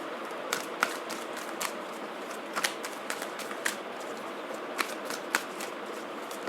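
Tarot cards being shuffled, a close, quiet run of crisp riffling flicks and soft taps repeating at an uneven pace, with no talking over it.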